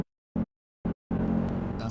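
Two short muffled thumps separated by silence, then a sustained car engine sound effect that runs on at moderate level to the end, as used in an edited video clip.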